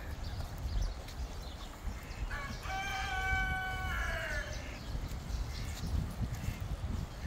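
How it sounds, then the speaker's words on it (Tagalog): A red junglefowl rooster crows once in the middle, a clear harmonic call with a drawn-out, wavering tail, heard at moderate distance over steady outdoor background noise with no talk. "May labuyo, oh."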